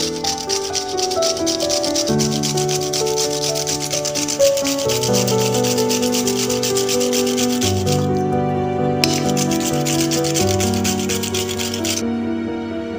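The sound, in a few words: grating peeled cucumber on a grater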